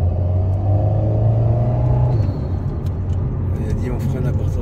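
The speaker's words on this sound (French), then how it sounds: "Et là, tu réouvres ton volant et tu accélères." An Alpine sports car on a race circuit, its engine droning loud and close at a steady pitch for about two seconds before the note drops as the throttle eases, then a rougher, lower rumble continues.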